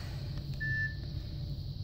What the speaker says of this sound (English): Gave us a little beep.